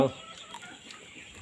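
Short burst of chicken clucking at the very start, followed by quiet rustling outdoors.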